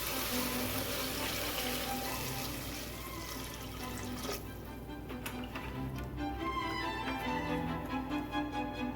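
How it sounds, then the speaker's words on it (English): Water runs from a tap into a pan while fried rice with shrimp, egg and chicken is being made, a steady close splashing flow with some clinks partway through and no talk. "At this time I will add in about 2 cups of water."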